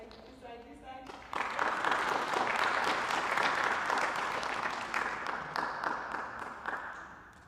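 An audience applauds steadily and loudly at an agricultural extension symposium, the clapping swelling after a moment of chatter and fading slightly toward the end, with a few voices mixed in.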